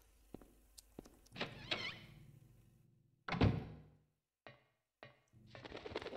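A door opens in a video game, heavy thunks and scraping knocks sounding in separate bursts with quiet gaps between them.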